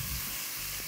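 Onion frying in a large pan of olive oil and butter for a homemade salt-cod risotto, giving a steady, even sizzle throughout, close and fairly soft, with no talking.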